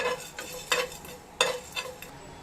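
Black pepper and fennel seeds dry roast in a pan without oil, with repeated soft scraping stirs and a faint rattle of seeds close by and fairly quiet.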